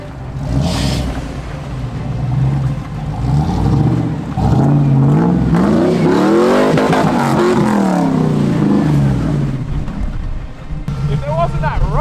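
A 4WD crawls off rocks and works its way around a muddy corner on a rough off-road track, its engine droning and revving steadily throughout, with people talking over it.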